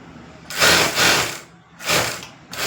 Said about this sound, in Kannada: ನಾನು ಆ ಮಾರ್ಜಿನ್ಗೆ ನಾನು ಕರೆಕ್ಟಾಗಿ ಸ್ಟಿಚಿಂಗ್ ಹಾಕ್ಕೊಳ್ತೀನಿ